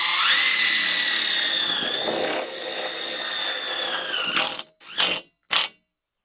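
A power drill drives a tek screw into a metal greenhouse frame. Its steady whine runs for about four seconds, then three short bursts follow as the screw seats, close and loud.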